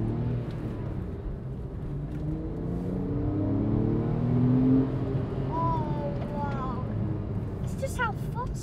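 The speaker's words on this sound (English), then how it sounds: "let's hear this lovely exhaust." Porsche 911 driving on a road, a steady engine and exhaust drone with rising pitch as it accelerates, heard from inside the car at moderate level, with people talking over it.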